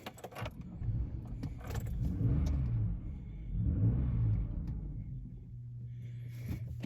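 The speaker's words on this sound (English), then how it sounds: "My fucking piece of shit car stalled." A stalled car stuck on a hill cranks and rumbles in low, uneven bursts as the engine tries to catch, with faint jangling of keys and quiet cabin noise between attempts.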